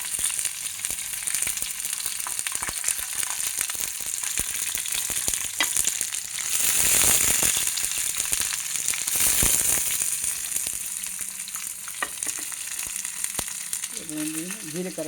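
Tempering spices such as cumin crackle and sizzle in hot oil in a pan for a roasted large brinjal dish, a steady frying hiss with scattered pops and stirring clinks, swelling louder midway, with a voice briefly at the end.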